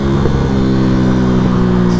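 A Yamaha MT125 motorcycle engine hums steadily and loudly while riding, with slight rises in pitch, heard close from the rider's position alongside wind noise.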